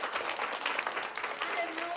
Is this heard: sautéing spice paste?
no